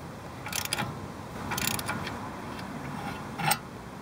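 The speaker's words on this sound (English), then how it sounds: "You just get your ratchet on one side and a wrench on the other." A hand ratchet clicks in short bursts while loosening a 15mm upper control arm ball joint bolt, with three quick clusters of sharp metallic ticks separated by quiet pauses, close by.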